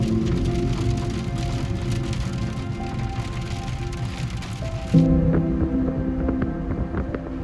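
Steady rain falls in the alpine Dolomites mountains, a dense, even hiss of drops that stays close and continuous, with a slight swell in intensity partway through and no voices.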